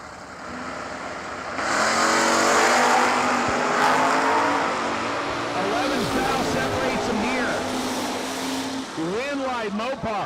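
Drag race cars at a New Year Nationals event, a Kentucky-based Chevy S10 and a Mopar, hold a loud, steady engine drone under a commentator's voice, then rev with rising pitch toward the end.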